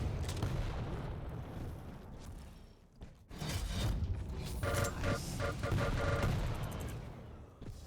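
Continuous weapon fire from a lightning gun and a shotgun during an arena shooter playoff match, a dense crackling stream with sharper pulsed bursts later, quiet and steady throughout with a brief dip midway.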